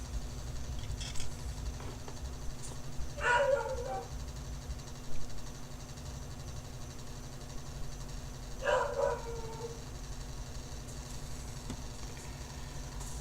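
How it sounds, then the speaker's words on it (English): A pet dog barks in short bursts a few times from another room, sounding muffled and moderately distant over a constant low hum, with no talk. "I don't know if y'all can hear the dog"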